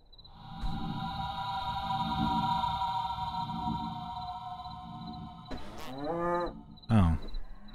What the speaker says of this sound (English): Alright, come here, cow.